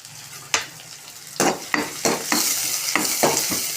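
Chopped onion with a little salt frying in a hot kadhai for corn-cob chivda, giving a steady close sizzle broken by several sharp scrapes and knocks of a spoon stirring against the pan.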